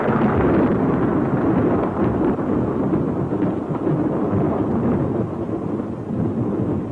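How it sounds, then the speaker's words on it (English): Nuclear test explosion blast wave sweeping over soldiers' trenches, a deep, loud, sustained rumbling roar with turbulent wind-like noise and no letup. "Seconds later, the blast wave reaches the trenches."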